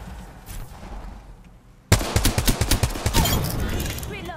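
Apex Legends gameplay audio goes from a quiet stretch into a sudden burst of rapid automatic gunfire, loud and close, with shots cracking in quick succession and then trailing off.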